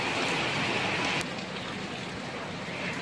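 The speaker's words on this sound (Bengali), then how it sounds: "হঠাৎ অঝোরে বৃষ্টি শুরু হয়ে গেল" Heavy monsoon rain pouring down outdoors in India, a dense, steady roar of falling water that stays loud throughout.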